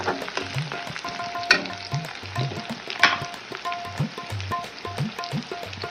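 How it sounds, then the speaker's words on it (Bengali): Onions frying in a pan, a steady close sizzle with clattering stirs and scrapes of a utensil recurring throughout, with a couple of sharper knocks; no one talks. "আমার পেঁয়াজ কিন্তু মোটামুটি ভাজা হয়ে যেতেছে"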